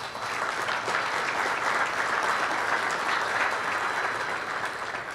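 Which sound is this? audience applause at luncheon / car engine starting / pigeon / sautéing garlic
audience applause at luncheon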